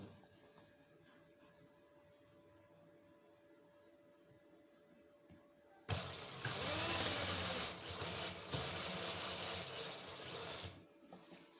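A sewing machine stitches a seam across viscose ajrak fabric in a tailoring class, starting loud and steady about halfway through after a quiet room hum, then running continuously for several seconds before stopping.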